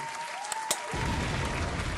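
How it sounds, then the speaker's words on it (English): An audience breaks into steady, continuous applause that starts abruptly and fills the rest of the moment, preceded by a brief electronic tone. "You definitely deserve a round of applause for that one"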